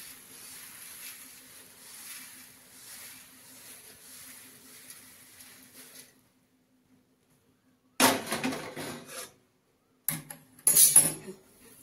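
Roasted poha being scooped out of a hot kadhai after the flame is turned off: after a quiet stretch come two bursts of metallic scraping and clattering of a spatula against the pan.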